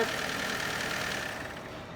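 A car engine idles quietly with a steady, even low chugging that fades slightly toward the end.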